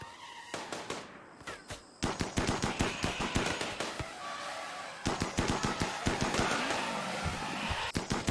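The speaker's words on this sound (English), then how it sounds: "Everyone lines up and opens fire on the aggressing pachyderms." Rapid bursts of gunfire ring out as colonists in the video game RimWorld shoot at charging elephants, sharp shots crackling in quick, uneven volleys with brief pauses between.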